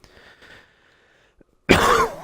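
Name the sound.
cough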